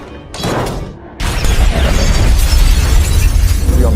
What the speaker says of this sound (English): and an explosion occurs